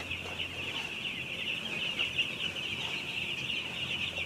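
Broiler chickens clucking inside a poultry house, a dense, steady chorus of many birds filling the space at close range, with a constant ventilation hum underneath and no talking.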